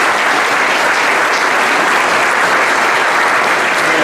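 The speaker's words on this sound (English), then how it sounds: "I'd like for you to give her and Marcia a round of applause." Loud, dense audience applause at a State of the City 2019 civic event, continuous and even throughout with no talk over it.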